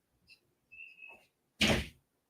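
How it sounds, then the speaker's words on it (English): A door shuts with one solid thud near the end, after a few faint, brief household sounds. "Close the door."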